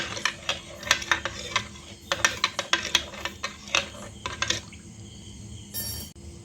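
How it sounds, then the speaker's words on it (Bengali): A spoon clinks steadily against a glass or bowl while gandharaj lemon juice and fruit food colour are stirred into water, a quick run of close, bright taps with short pauses, ending in a softer swishing rattle. "এবার আমি ভালো করে লেবুর রসটা আর এই ফ্রুট কালারটা জলের মধ্যে মিশিয়ে নেব চামচ দিয়ে"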